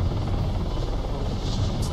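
A helicopter in a video game gives off a constant low rumbling drone that stays steady and fairly loud throughout.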